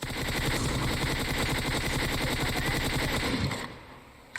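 Dense automatic gunfire from the video game PUBG Mobile roars loud and continuous for over three seconds, then cuts off abruptly, followed by a couple of faint pops.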